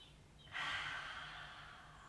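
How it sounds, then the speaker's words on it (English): A single deep breath taken during a Pilates mat exercise, a sudden airy inhale then a slow fading exhale, close and fairly quiet, no voices. "3 belly breaths here"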